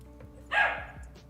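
A dog gives one sharp, close bark that stands out clearly above a quiet, steady background, followed by a softer trailing sound.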